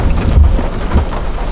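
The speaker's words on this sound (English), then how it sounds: "Oh, rain's dying down." Heavy rain drums on a surface during an Oklahoma storm chase, a loud dense patter with a couple of deep low thumps underneath.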